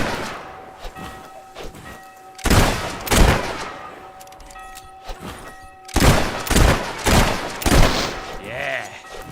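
Musket gunfire in the game Fable 3, heard as several loud, booming shots and thuds in two clusters, with game noise and tones between them.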